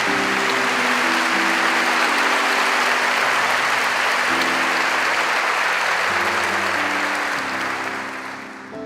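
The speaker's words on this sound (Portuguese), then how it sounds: "Então vamos aplaudir o Senhor Jesus mais uma vez" A church congregation applauds at a Catholic Mass, a loud, continuous sheet of clapping from many people that stays strong for several seconds, with a low musical tone underneath, before tapering off at the end.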